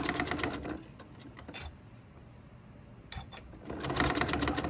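A sewing machine runs in fast bursts stitching fabric pieces together at a quarter-inch seam, loud whirring runs at the start and end with a quieter pause and brief taps between.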